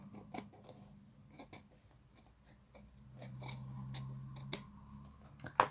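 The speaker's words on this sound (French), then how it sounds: "Là, mon ciseau, et on coupe. Donc on coupe en fait le surplus." Scissors snipping away surplus material in a series of quiet, close cuts, with soft handling noises between the snips.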